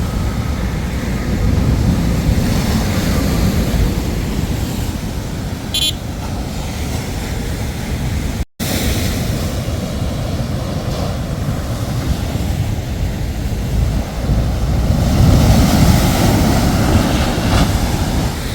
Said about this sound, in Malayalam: കടൽ നല്ല തിരയുണ്ട്.